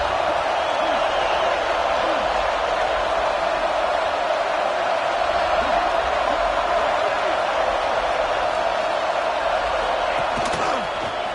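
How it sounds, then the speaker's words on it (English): A stadium crowd in a college football video game roars a war chant on third down inside a dome, a dense, steady wall of massed voices with no clear breaks. "A cacophony of noise, debilitating surround sound. The war chant on 3rd down at the dome."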